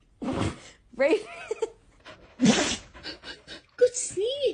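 A dog sneezes a few times in short, sharp bursts, with people talking and reacting close by between them.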